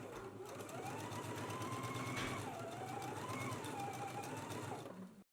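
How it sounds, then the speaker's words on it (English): A sewing machine runs a steady, continuous stitch through fabric, sewing gathering rows 3/8 inch from the raw edge; a close, even whir with a rising and falling motor tone, no voices. "We're going to machine stitch 3/8 of an inch from the raw edge"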